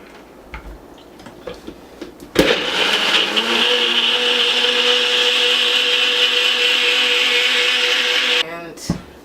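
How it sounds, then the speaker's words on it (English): A NutriBullet blender whirs loudly as it blends a ginger shot mixture, starting abruptly after a few clicks, holding a steady high-pitched motor whine for about six seconds, then cutting off with a rattle. "And of course I used my NutriBullet."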